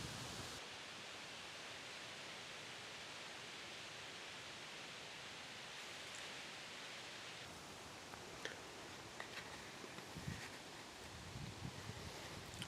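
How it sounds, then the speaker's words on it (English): Wind blowing outdoors on a hillside near a field in autumn, heard as a steady broadband rush through the whole clip, with some louder gusts and rustling toward the end. No one speaks. "And the wind's blowing this way."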